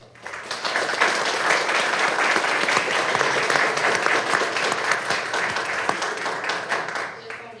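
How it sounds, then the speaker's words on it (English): Applause at a city council meeting for Lupus Awareness Month, as a full room claps. The clapping builds quickly, stays loud and dense for several seconds, then thins slightly toward the end. "Please join me in a round of applause to celebrate Lupus Awareness Month."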